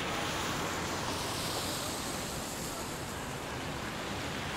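Wind and sea surf in rainy seaside Gothenburg, a steady, loud wash of rushing noise with wind buffeting the microphone, no voices.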